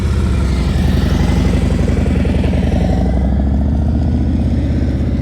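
A motorcycle engine lugging at very slow speed close to stalling during low-speed riding practice, a loud, steady, uneven low chugging pulse that runs the whole time, close by.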